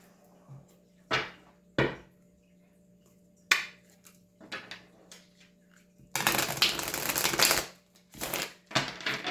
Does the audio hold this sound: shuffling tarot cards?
yes